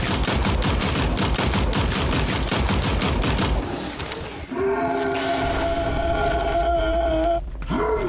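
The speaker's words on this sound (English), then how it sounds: "Stop fucking shooting me." Enemies firing on the player in the video game Sker Ritual: a loud, dense barrage of rapid gunshots crackles for several seconds, then breaks off into sustained tonal game sounds with a few scattered hits.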